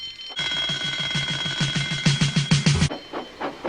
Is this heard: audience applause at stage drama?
no